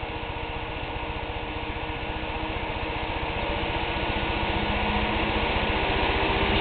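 A CPU cooler fan on an overclocked AMD Phenom II X4 940 spinning up, its steady whirring hum with a low rhythmic pulse growing gradually louder and denser over several seconds, with no voices.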